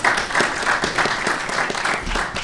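Steady audience applause at a medical conference session, a continuous dense wash of clapping from many hands with no talk over it.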